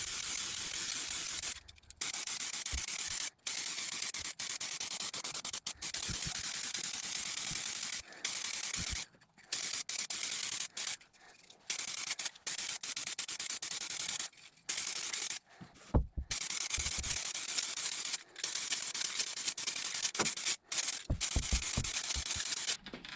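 A spray paint can hisses in long bursts while coating a car floor pan with single-stage paint, each spray separated by brief pauses and light rattles or clicks, close and steady.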